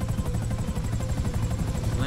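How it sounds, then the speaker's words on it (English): Rotor thump and turbine whine of a helicopter in Grand Theft Auto V, a steady loud pulsing drone running through the whole stretch with a voice talking over it. "Land this chopper right here."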